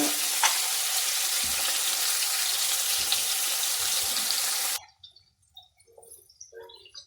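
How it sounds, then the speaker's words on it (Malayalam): Bitter gourd curry sizzling loudly in a pan with stirring scrapes, then the frying cuts off abruptly, leaving faint clinks and quiet gaps. "ഇങ്ങനെ തിരിച്ചും മറിച്ചും ഇളക്കി ഇതൊന്ന് മൂക്കട്ടെ"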